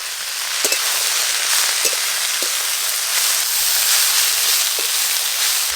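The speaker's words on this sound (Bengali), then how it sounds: "ধুয়ে রাখা লাল শাক দেব" Washed red amaranth leaves hit hot mustard oil tempered with dry chilli and cumin, giving a loud, steady sizzle with a few soft clicks of stirring, close and continuous with no talk.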